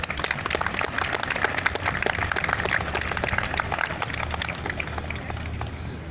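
A crowd at a Kresy commemoration ceremony applauds steadily, dense clapping filling the space at an even, loud level from start to finish.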